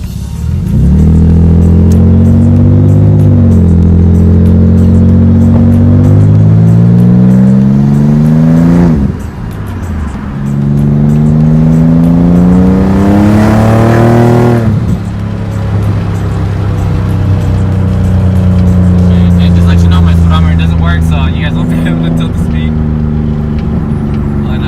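Nissan 300ZX fitted with large intercoolers accelerating through several gears while driving, loud close engine climbing in pitch, dropping at each shift and rising again, ending in steadier cruising with a voice talking over it.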